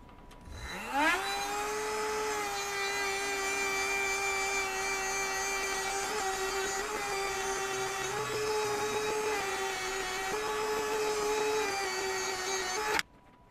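Ryobi RHS01 rotary tool spinning a polish pad at steady high speed, a sustained whine running alone for about twelve seconds after spin-up and cutting off at the end.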